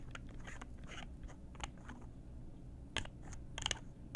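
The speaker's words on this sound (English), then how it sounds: "there's all different types of little jars that can be opened or closed that make really nice" Little jars are opened and closed in a series of soft, close clicks and taps at an uneven rhythm, with a slightly brighter cluster of sharper clicks toward the end.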